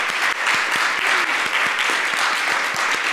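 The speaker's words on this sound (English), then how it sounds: "let's give another big round of applause for all of them" A large audience at a public health faculty lightning-talk event claps in a loud, steady round of applause, with individual hand claps audible in the dense wash.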